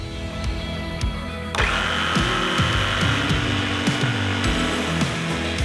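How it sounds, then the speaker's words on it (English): A jigsaw cuts a curved line around a marked circle in a wooden board, its steady buzzing drone close and loud, with rough rasping pulses as the blade bites through the wood. "it's time to cut, and the best tool for cutting a curve is a jigsaw"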